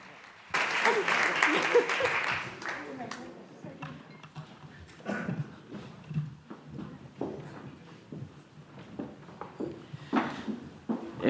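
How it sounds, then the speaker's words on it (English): A press conference audience at an RTVE audiovisual industry presentation breaks into a burst of applause that swells loudly for about two seconds, then thins into scattered claps, rustling and shuffling as the room settles. "And a big round of applause for Sergio Calderón."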